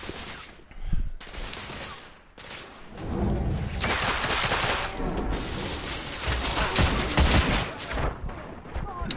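Heavy shotgun blasts in the video game The Order 1886, loud booming shots with a dense, sustained roar of gunfire and echoing combat noise, briefly broken by quieter gaps.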